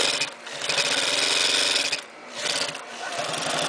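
A Taiko double-needle heavy-duty sewing machine stitching in a steady, dense mechanical whir, loud and close, dipping briefly around halfway before running on again, with no talking.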